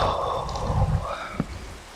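Steady rain pattering during a thunderstorm in a video game, a continuous wash of drops with a faint low rumble, heard alone without talking.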